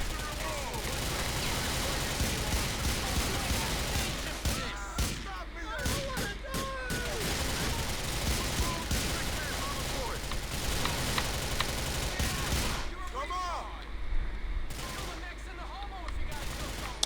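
Gunfire in the video game GTA 4 The Ballad of Gay Tony, dense bursts of rapid shots and automatic fire rattling continuously through a busy, noisy game mix, with a voice talking in the background.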